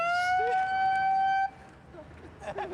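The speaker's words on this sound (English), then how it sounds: "It has a terrible siren." A loud electronic siren wails in a sustained tone for about a second and a half, then cuts off abruptly, leaving faint background noise and brief distant sounds.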